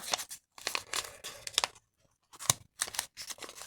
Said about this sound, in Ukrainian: Я порвала сюрприз, але я не порвала пакетик.